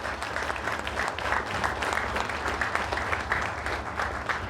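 Crowd at a Jersey City Police Unity Tour ceremony applauding steadily, a continuous wash of clapping with low hum underneath.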